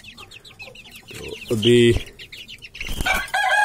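Hens cluck repeatedly at close range while wings flap in a loud burst midway, and someone speaks briefly over the birds.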